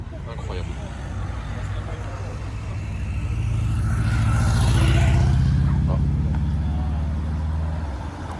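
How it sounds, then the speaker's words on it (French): An Aston Martin V8 Vantage with a naturally aspirated V8 approaches, its low engine rumble swelling as it nears and passes close by, then easing slightly, with a voice talking over it. "Petit Aston V8 Vantage qui arrive. Un V8 Atmo de bon matin, ça fait plaisir."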